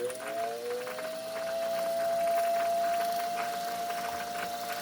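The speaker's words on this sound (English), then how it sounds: "Winding nice and evenly." A restored Singer 201 sewing machine winds a bobbin with a steady, even motor whine that rises slightly in pitch and then holds, over a faint mechanical rattle, close and continuous, with no talking.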